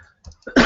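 A person coughs at close range: a couple of small throaty huffs break into a loud, harsh, raspy cough at the end.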